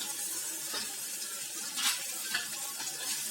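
Shallots and curry leaves sautéing in a pan, a soft continuous sizzle with a few brief louder crackles and stirring scrapes, close and fairly quiet.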